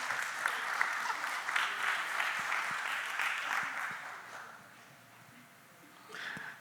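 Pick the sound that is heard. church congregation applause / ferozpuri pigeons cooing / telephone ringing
church congregation applause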